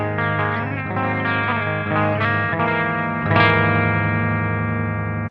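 A Jackson Warrior baritone electric guitar played through its bridge pickup on a clean amp channel, with sustained low, ringing chords and a fresh strum midway, close and steady with no voices.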